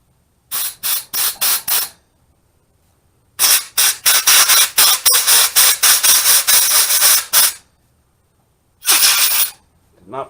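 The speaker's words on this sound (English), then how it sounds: "I like to spray these out while they're still wet." Aerosol cleaner blasted through the pilot jet of a 1999 Yamaha VStar 650 Classic carburetor: a quick run of short close hissing bursts, then a long sputtering spray, a pause and one more burst, loud and without talk.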